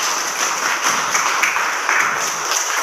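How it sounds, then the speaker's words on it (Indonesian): A classroom group applauds together, a dense, even burst of clapping that holds steady throughout with no voices over it. "Tepuk tangan untuk"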